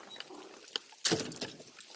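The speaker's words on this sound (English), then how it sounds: "Ooh, look at that rain come down." Rain falling at a muddy campsite, a soft steady patter with a heavier burst of drops about halfway through, close by and fairly quiet with no talking.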